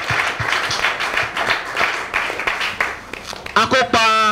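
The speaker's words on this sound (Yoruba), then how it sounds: "ẹ bá mi pàtẹ́wọ́ fún un." An audience at a Yoruba-language school debate competition applauds a contestant with dense, continuous clapping throughout; a voice speaks over it, and a sharp burst of louder claps comes near the end.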